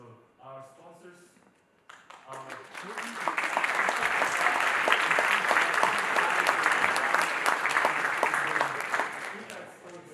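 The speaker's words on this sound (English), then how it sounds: "So please, a round of applause to our sponsors." An audience at a FuckUp Nights 2023 event breaks into loud, steady applause for the sponsors after a brief stretch of speech, with the clapping swelling and holding strong to the end.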